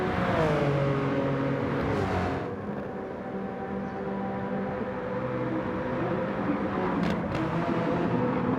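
Race cars on the final lap of a BTCC replica championship sprint in a racing video game, engines whining and revving continuously with brief passing bursts, fairly quiet and steady, no talk.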